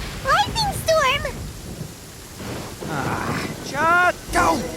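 Thunder rumbles and rain falls during a storm in the video game Genshin Impact, a steady wash of weather sound running under excited character speech throughout.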